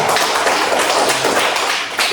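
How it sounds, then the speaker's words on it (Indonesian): Classroom applause for Pak Daya at the end of a primary school lesson, a dense, steady patter of many hands clapping at close range for about two seconds with no talk over it. "Tepuk tangan Pak Daya."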